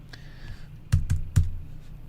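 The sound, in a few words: computer clicking during a livestream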